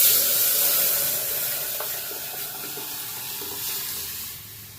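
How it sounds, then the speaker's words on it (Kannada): Sambar with softened onions and spinach being stirred in a pan, a steady soft sizzle and watery bubbling with a few faint scraping clicks of the spoon, fairly close and even throughout. "let's give it a mix"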